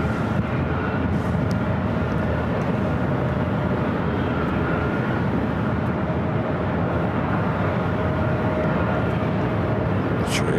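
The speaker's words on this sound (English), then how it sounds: "British Airways, the flight heading back to London Heathrow, the A380 Super, flight 268, now pushing it back for Tom and Bradley." A British Airways A380 being pushed back at LAX gives off a steady, loud broadband jet rumble with a faint engine whine, continuous and close throughout.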